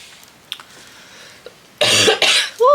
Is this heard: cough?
yes